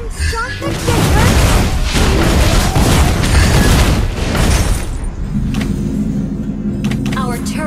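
A turret being destroyed in the Mobile Legends Bang Bang video game, heard as a loud, sustained crashing explosion for about five seconds that drops to a lower rumbling hum with game sounds, over speech.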